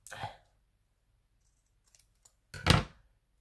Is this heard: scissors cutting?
yes